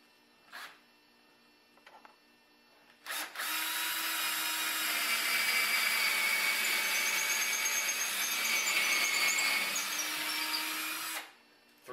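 A power drill whines steadily for about eight seconds while boring a 3/16-inch pilot hole for a pull-up bar, with brief mechanical clicks before and after.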